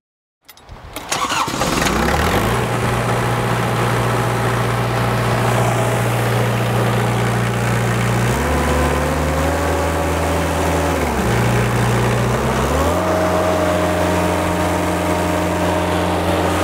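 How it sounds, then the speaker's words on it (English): A diesel Kubota engine on a truck-mounted sealcoating spray rig cranks over and settles into a steady, loud idle that continues without talk, its pitch shifting a little twice as the speed changes. "gonna go ahead and start our diesel Kubota engine."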